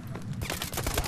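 Dense gunfire in a Call of Duty Advanced Warfare multiplayer match: loud, rapid automatic bursts that run continuously across the short clip, with no talking over them.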